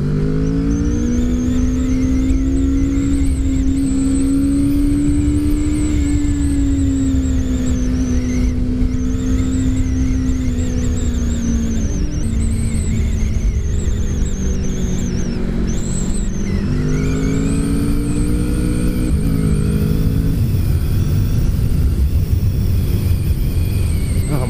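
A stock Kawasaki Vulcan S motorcycle with no muffler, its engine droning loud and close with rising and falling revs held steadily throughout.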